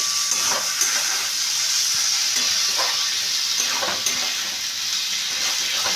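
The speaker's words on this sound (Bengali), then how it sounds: "সামান্য একটু ঘি দিলাম দিয়ে আবারও এটাকে আমি ভালো করে মিশিয়ে নিচ্ছি ঘিটাকে" A little ghee is stirred into a banana flower and prawn curry in a pan, giving a soft, continuous sizzle with faint scraping strokes from the stirring, close and steady.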